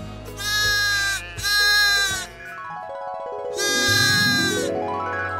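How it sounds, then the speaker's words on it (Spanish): Sheep bleating, with three loud, close, wavering bleats separated by short pauses. "pastorear todas las ovejas"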